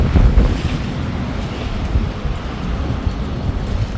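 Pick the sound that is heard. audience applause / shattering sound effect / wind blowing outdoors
wind blowing outdoors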